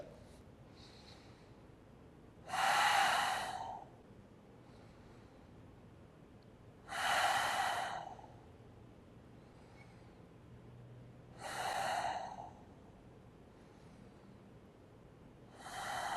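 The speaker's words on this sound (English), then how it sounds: "Just stay, take 6 breaths." Slow, deep breaths during a yoga core hold come as four separate full exhales, close and roughly four seconds apart, with quiet room tone in between.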